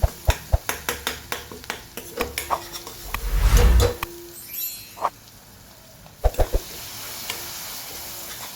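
A spoon taps and scrapes around a cooking pot in quick, irregular strokes while spices, salt and a little water are mixed, with a brief louder rush of sizzling in the middle.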